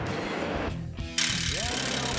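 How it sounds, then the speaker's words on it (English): A pneumatic air hammer fitted with a pickle fork, separating a vehicle ball joint, rattles loudly, pauses briefly, then hammers again in a harsh, fast metallic chatter close by. "An air hammer with a pickle fork attached makes quick work of separating it."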